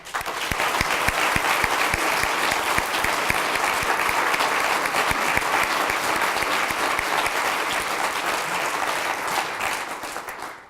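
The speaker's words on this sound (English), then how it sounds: "Let's give one more round of applause to Jean and all of our educators of the year" Sustained, loud applause from a large audience at an educators awards event, a dense wash of clapping that holds steady for about ten seconds before tapering off.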